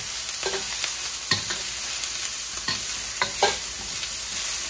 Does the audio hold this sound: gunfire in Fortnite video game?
no